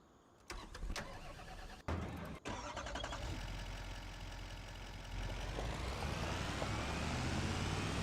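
A John Deere tractor in a farming video game clunks and starts, then its engine settles into a steady idle that rises slightly, close and loud with no talk.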